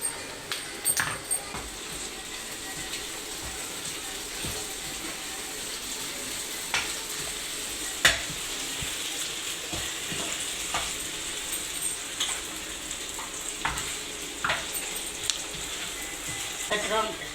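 Cashew paste frying with fried onions gives a continuous, moderate sizzle, broken by irregular scrapes and clicks of stirring throughout.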